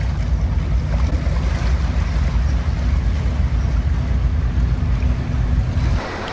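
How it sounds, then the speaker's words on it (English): A heavy, steady low rumble of a large ship engine laboring under load with its turbo spooling, with broadband roar and wind-like noise, dropping off abruptly near the end. "Engine load, turbo spool, growing and growing."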